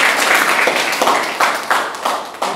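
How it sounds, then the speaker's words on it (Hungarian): Audience clapping after a poem recitation at a Hungarian Poetry Day event, a steady round of applause with several louder surges, no talk over it. "Tapsoljuk!"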